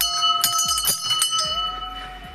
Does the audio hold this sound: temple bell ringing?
yes